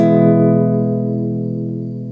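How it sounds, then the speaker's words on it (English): Acoustic guitar chord strummed once after tuning by ear, ringing loud and alone, then slowly decaying over a couple of seconds with rich sustained harmonics. "Okay, so now that all your strings are in tune, you can strum a chord."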